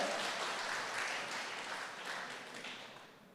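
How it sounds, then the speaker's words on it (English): A crowd applauds in a dense, continuous wash of clapping that gradually fades, heard from some distance. "Let's give your country manager a hand of applause"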